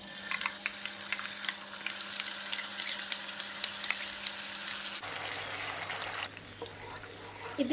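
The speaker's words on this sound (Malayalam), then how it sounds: "ഇനി നമുക്ക് ഇതിലേക്ക് നമ്മൾ നേരത്തെ അരച്ചെടുത്ത ടൊമാറ്റോയും അണിയനും കൂടെ ഉള്ളത് ഇട്ട് കൊടുക്കാം." Ground tomato and onion paste fries in oil in a pan for a chilli porotta dish, giving a steady close sizzle with no speech. The sizzle briefly drops off at about five seconds, then continues more quietly.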